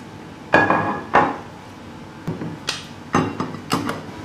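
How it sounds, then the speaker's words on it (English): A spoon knocks and scrapes against a saucepan while dal is transferred into a serving dish, giving several sharp metallic clanks at uneven intervals, close and fairly loud. "I'm going to put it into a serving dish."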